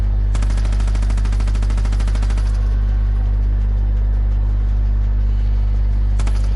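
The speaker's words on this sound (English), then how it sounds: "Strafing run on windows." An aircraft strafing run on windows in Far Cry 5: a fast rattling burst of gunfire lasting about two seconds, then a short final burst, over a loud, steady, low engine drone.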